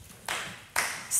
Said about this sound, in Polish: Dziękuję ci bardzo za oklaski